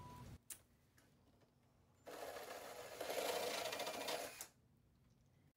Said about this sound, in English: we have changed our bit from a regular bit that we use to drill the hole for the eye bolts to a hole saw